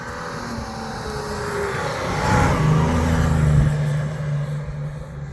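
An overland vehicle's engine drones steadily as it climbs a sand dune, the growl swelling in the middle as it pushes up the slope, then easing off, with wind noise throughout.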